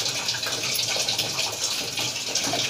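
Water runs steadily into the tub of a semi-automatic washing machine, a continuous close hiss and splash of filling water with no pauses and no voices.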